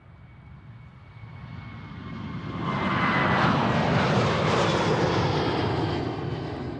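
A Norwegian airliner jet passes at Amsterdam Schiphol Airport, its engine roar building from a distant hum to a loud, close rush around the midpoint, then easing slightly; no voices.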